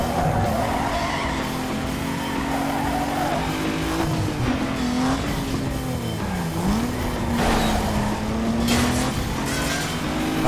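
Tires squeal continuously as a car drifts in the Need for Speed: Underground 2 racing game, the wavering screech riding over a steady engine drone for the whole stretch, loud and close.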